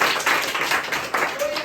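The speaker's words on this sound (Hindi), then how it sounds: "शाबाश, इसके लिए तालियां बजाओ" Students in a classroom give a short burst of clapping, brisk and fairly close, mixed with a voice.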